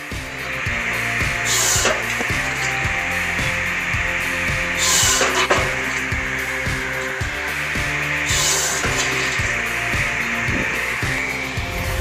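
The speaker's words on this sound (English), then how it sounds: "The circular saw blade design is a classic choice for high-efficiency firewood production, especially in farm environments." A firewood processor with a circular saw blade runs steadily on a farm and cuts through logs. A loud, continuous mechanical whine and hum carries a rhythmic knocking, with rising surges each time the blade bites into the wood.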